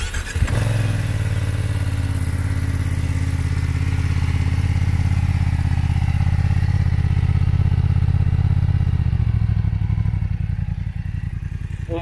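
A BMW F900R motorcycle fitted with its stock exhaust starts up and settles into a loud, steady idle close by, with a deep throbbing rumble that continues for several seconds before easing slightly.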